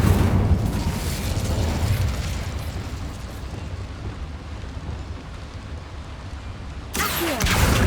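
An Incendio fire spell is cast in the Hogwarts Legacy video game, a loud, dense roaring burst of flame that rumbles steadily for about seven seconds. A sharp crackling flare closes the clip.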